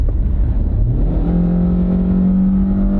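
A new budget car with an intelligent variable transmission, floored from about 40 mph, its engine roaring loudly and rising steadily in pitch as it accelerates, with no speech.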